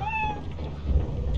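A cat in the video game Lethal Company lets out one short, clear meow at the start, followed by a low rumbling background.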